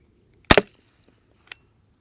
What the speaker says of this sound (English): These are primer powered rubber bullets.